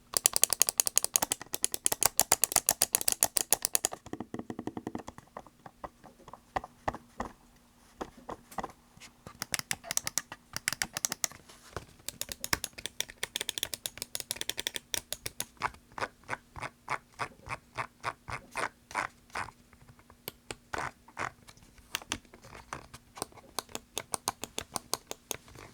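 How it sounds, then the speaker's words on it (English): Button clicks from a Razer Pro Click V2 mouse, rapid crisp clicking in quick bursts and steady runs, close and loud, with a faint steady hum underneath. "Let's do a quick sound test for the actual clicks."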